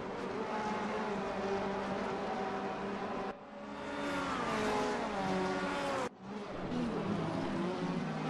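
DTM touring cars battle side by side in a virtual racing game at Hockenheim; loud, continuous high-revving engine whine rises and falls through gear changes, broken by two abrupt cuts, with no voices.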